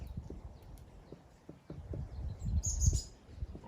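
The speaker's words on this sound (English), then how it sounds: "I think the birds in the background are enjoying the lecture." Birds chirp in the background, with brief high calls near the end over rhythmic clip-clop hooves and low thumps, while no one speaks.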